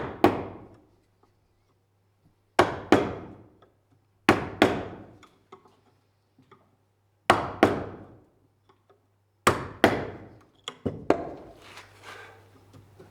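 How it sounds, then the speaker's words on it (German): Sharp, close hammer blows drive a hand chisel into old reclaimed wood, landing in spaced pairs and small clusters with quiet gaps between; no one speaks. "Span für Span stemmt er langsam heraus."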